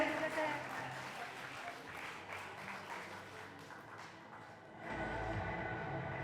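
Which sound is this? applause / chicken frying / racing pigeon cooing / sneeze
applause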